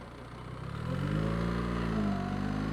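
Motorcycle engine braking in first gear through a tight right-hand hairpin, a steady close mid-pitched engine drone that swells slightly and holds, with pitch wavering as revs fall and settle.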